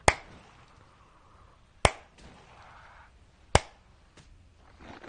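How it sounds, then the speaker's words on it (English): A streamer claps by hand: three sharp, loud, close claps spaced evenly about two seconds apart, with quiet room noise between them. "we got 7 big claps."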